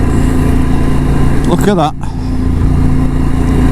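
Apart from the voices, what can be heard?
car overtaking a camper van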